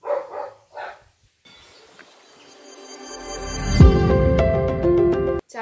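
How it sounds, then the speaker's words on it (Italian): A dog barks in a home setting: a few short, close barks at the start, followed by a louder, swelling mix of noise and tones that fills the rest of the moment. "c'è il cane che parla."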